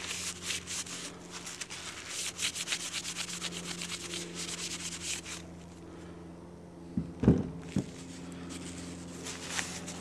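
A Marlin Model 60 rifle bolt is wiped down with a cloth, giving close, quiet, steady rubbing strokes that stop partway through, then a few brief handling clunks over a low background hum.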